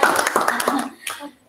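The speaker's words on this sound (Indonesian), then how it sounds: "Beri tepuk tangan dulu." A group claps hands in a quick, scattered burst that fades after about a second, mixed with children's voices.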